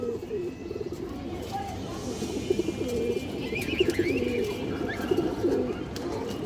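Pigeons at a pigeon seller's coop coo in low repeated rounds, with a few higher chirps, under a steady hum of background noise.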